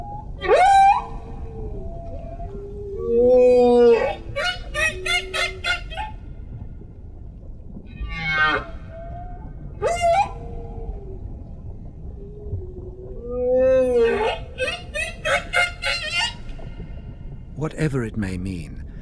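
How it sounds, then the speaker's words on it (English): Humpback whale song from the South Pacific: long, eerie moans, rising and falling wails and pulsed, buzzing calls in separate phrases with quiet gaps between, loud and close, with a narrator speaking in between. "the humpback song is a remarkable evolving symphony of nature"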